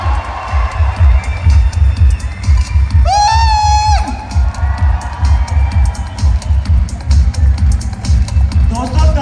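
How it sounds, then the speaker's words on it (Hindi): A large crowd at a network marketing meeting cheers and claps loudly throughout, with rhythmic clapping, whoops and hubbub, while a sustained tonal whistle or horn-like sound rises briefly in the middle. "जोरदार तालियां हैं आवाज से"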